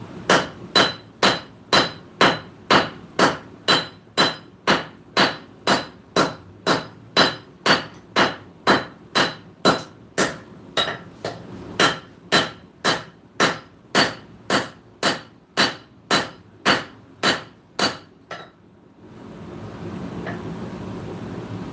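A hammer strikes hot steel on an anvil in a blacksmith's shop, with about thirty loud, evenly paced ringing blows, followed by the steady roar of a forced-air forge once the hammering stops.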